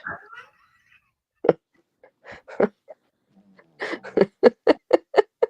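A dog snoring nearby indoors, a run of short rough snorts and wheezy breaths that quicken into a steady rhythmic series of sharp snores toward the end, with no talk over it.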